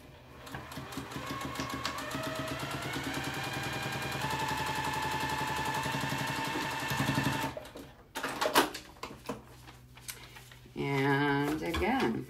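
Sewing machine stitching pieced quilt fabric for a flying geese unit, running steadily and close for several seconds, then stopping, followed by brief stitching bursts, clattering handling noises and a short final run.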